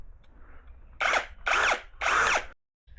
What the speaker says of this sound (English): I'm just going to drill the right size hole now.